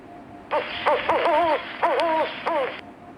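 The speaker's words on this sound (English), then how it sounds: "Owl." An owl hoots several short, wavering calls in a quick series, fairly close and loud, with brief gaps between them and no talking.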